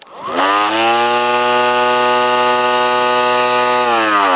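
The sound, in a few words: motorised chickpea top-nipping machine running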